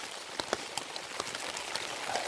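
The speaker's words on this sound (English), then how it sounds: "Well, it is very much raining." Heavy rain drums on a tarp shelter at a wilderness survival camp in Norway, making a dense, continuous hiss with scattered louder drops tapping close overhead and no voices.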